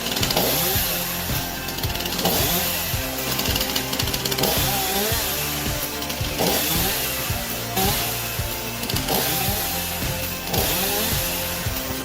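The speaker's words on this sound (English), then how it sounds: "this device combines a standard chainsaw with a stabilizing system and an automatic throttle mechanism" An automatic chainsaw with a throttle mechanism, mounted on a sturdy metal frame, cuts through logs, its engine droning loudly and steadily with repeated surges.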